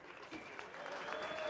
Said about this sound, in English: This crowd is putting their hands together.